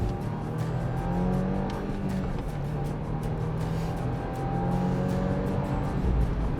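A 2022 Subaru WRX, past 600 miles of break-in, accelerating hard: a steady, loud engine drone with rising and falling pulls through the gears, heard from inside the car with no talking.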